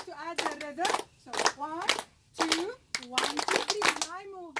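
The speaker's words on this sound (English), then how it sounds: "So let's clap again." A laughter yoga group in Lebanon clapping hands in short bursts between voices, close and fairly loud, with people talking and calling out in rhythm.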